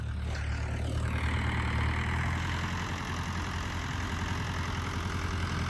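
A tractor engine pulling a field leveller (suhaga) over a sown field for moong beans, a steady low mechanical drone that is continuous and fairly close, with no talking.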